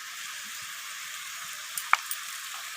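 Chicken coated in turmeric and red chili powder fries in a pan with a steady, soft sizzle, broken by a few light scraping stirs near the end.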